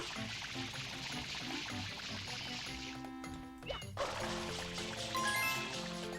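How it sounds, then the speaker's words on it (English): In Super Mario Sunshine, the FLUDD water pack sprays water: gushing, splashing bursts that stop for a moment and then return, set against the game's background music and effects. "spraying them with water actually makes them a bit bigger"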